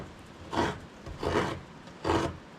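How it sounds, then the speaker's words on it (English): A hand-held coconut scraper rasps against coconut flesh on a remote tropical island. Three rhythmic, evenly spaced scraping strokes sound close and fairly loud, with quiet pauses between them. "Scraper tool, coconut scraper."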